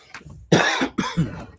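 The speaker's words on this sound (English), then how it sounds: "Sometimes the cough get really bad," A harsh, close cough followed by a couple of smaller hacking coughs in quick succession.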